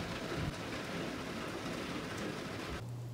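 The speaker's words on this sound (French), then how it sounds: "Il pleut." Steady rain falling outdoors, a dense continuous hiss of drops with no voices, cutting off abruptly near the end.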